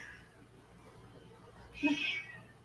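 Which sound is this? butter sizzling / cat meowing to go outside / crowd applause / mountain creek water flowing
cat meowing to go outside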